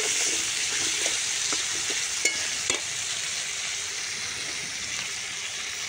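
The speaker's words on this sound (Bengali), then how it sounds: "আলুটা ভেজে নিই" Potatoes fry in a home kitchen pan with a steady, continuous sizzle, a few sharp clinks and taps from stirring rising briefly above the bubbling hiss.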